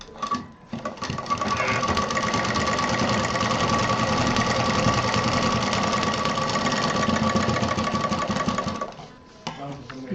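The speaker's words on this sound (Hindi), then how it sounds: "दूसरी तरफ भी सिल देते हैं लेस।" An electric sewing machine stitches lace onto a fabric money gift pouch, running as a steady, close, continuous whirring hum for most of the span before slowing and stopping near the end.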